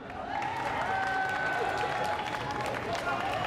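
Audience at a geek cosplay show applauding the prop master, a steady crowd clap with some cheering, moderately loud, with a voice talking over it.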